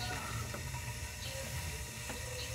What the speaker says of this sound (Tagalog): Tapos yan, kumukulo na.